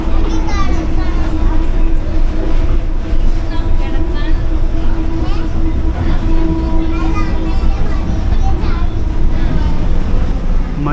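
A Mumbai Monorail car rattles and shakes as it runs, a loud steady rumble with a sustained whine and constant clatter. Children and other passengers chatter throughout.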